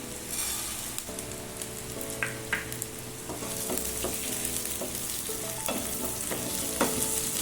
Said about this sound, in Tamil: இதெல்லாம் கொஞ்சம் ரோஸ்ட் பண்ணி எடுத்துப்போம்.